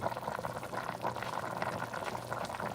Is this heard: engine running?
no